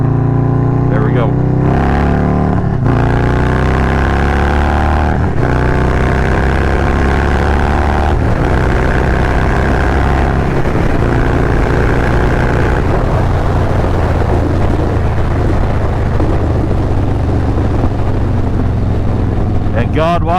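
Motorcycle engine running loud and close, a deep rumbling drone with shifting pitch as it revs and changes gear, and talk in the clip partly over it.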